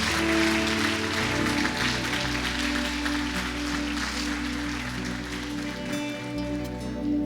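A church congregation claps together in steady, dense applause, mixed with sustained music or organ-like tones, continuing evenly throughout.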